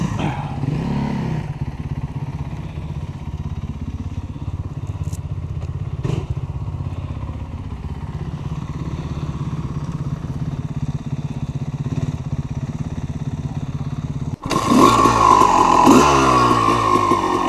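A motocross motorcycle engine idles steadily at close range for about fourteen seconds, a low even chug with a faint thud partway through, then revs up sharply and loudly near the end.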